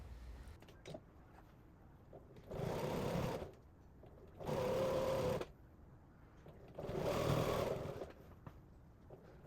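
Sewing machine stitching down the binding along a quilt's edge, running in three steady bursts of about two seconds each with quiet pauses between.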